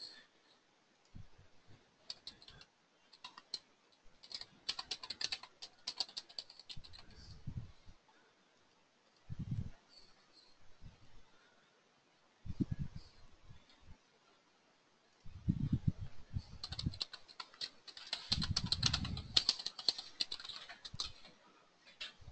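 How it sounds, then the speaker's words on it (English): Clustered bursts of typing on a computer keyboard as an email address is entered, quiet and close, with short pauses between runs of keystrokes. "Here, I'll type it in for you really quick."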